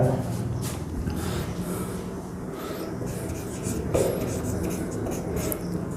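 Teacher writing on a board during a class on carbon: a steady, close scratching and tapping of chalk or marker that continues for several seconds with small pauses.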